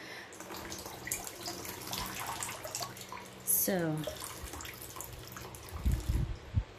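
Rainwater poured and dripping through an orchid pot in semi-hydro culture, draining into a basin as trickles and drips under a voice speaking nearby, with a louder splash burst near the end.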